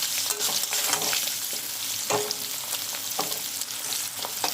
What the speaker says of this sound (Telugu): బాగా ఫ్రై అవుతున్నాయి